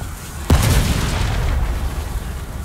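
A bomb explodes in the video game Resident Evil 4 Remake: one sudden loud boom followed by a rumbling, crackling decay that lingers over background game noise.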